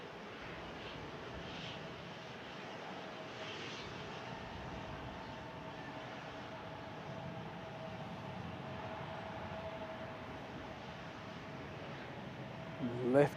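An Airbus A330-900 jet taking off from San Francisco International Airport, a distant steady engine roar and rumble carrying across the field while a person talks nearby.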